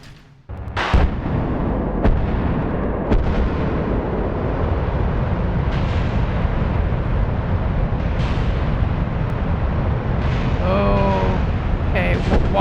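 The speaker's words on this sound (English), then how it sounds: "Why is stuff exploding?" Kerbal Space Program rocket liftoff with explosions, a loud sustained rumbling roar broken by sharp bursts and booms throughout, with some faint game noises near the end.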